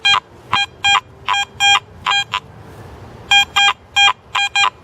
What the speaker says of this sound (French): Avec le détecteur, ça sonne.